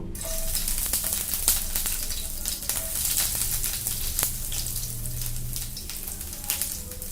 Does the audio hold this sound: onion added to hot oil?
yes